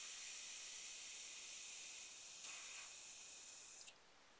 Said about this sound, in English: So I like to just spray it in here for about 3 seconds.